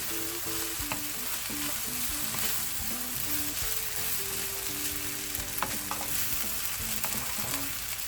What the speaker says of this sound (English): I'm going to add here the rice. Stir it a little bit together with the vegetables